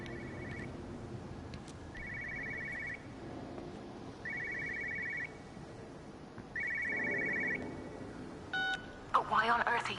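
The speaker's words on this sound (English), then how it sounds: "I hear phone." A telephone ringing in a PS4 video game: four evenly spaced electronic rings over a low background hum, followed by a short burst of beeping tones.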